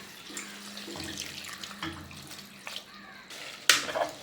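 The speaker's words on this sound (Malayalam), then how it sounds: "ഒരു അര ലിറ്റർ വെള്ളം ഉണ്ടാവും അതിലേക്ക് ഒഴിച്ചു കൊടുക്കും" About half a litre of water pours steadily into a pot of drumstick leaves for a few seconds, then ends with a short louder splash, close by and with no talking.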